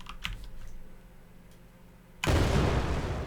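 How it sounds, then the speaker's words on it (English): An explosion sound effect fires in a game engine during a play test, a sudden loud broadband blast that starts abruptly after faint keyboard clicks and sustains as a rumbling roar to the end. "it plays an explosion and prints"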